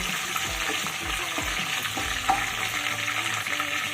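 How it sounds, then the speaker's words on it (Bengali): Curry leaves being stirred and fried in a pan for a chicken dish, a steady broadband sizzle with soft scraping stirs throughout, moderately loud and close with no talk. "কারি পাতাটা নেড়ে চেড়ে একটু ভেজে নেব"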